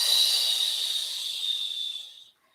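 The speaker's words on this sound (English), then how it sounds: "softly hiss that breath out, shoot it out so that you sound almost like steam escaping from a kettle" A long, soft hissing exhale during a yoga breathing exercise, a steady steam-like breath pushed out through the lips for about two seconds before fading to silence.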